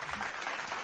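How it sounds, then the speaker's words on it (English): Quiet studio-audience applause on a talk show, a brief even patter of clapping heard faintly with no voices over it. "Give them a round of applause."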